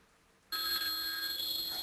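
A telephone rings with an incoming call, a bright electronic bell tone that starts abruptly after a quiet moment and continues steadily and loudly with no talking over it.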